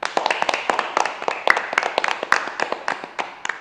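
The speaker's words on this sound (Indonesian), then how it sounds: "Tepuk tangan untuk semuanya." Classroom group clapping hands together for everyone, a quick run of sharp, close claps in an uneven rhythm with no talk over it, fairly loud throughout.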